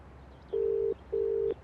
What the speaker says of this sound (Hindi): शशांक को ट्राई करता हूं।